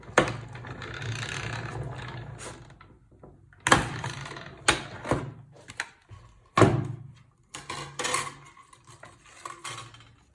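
A die-cut frame in purple cardstock run through a Stampin' Cut and Emboss machine, giving a steady mechanical rumble with several sharp clunks and thuds from the plates and handle, close and fairly loud, with no talk.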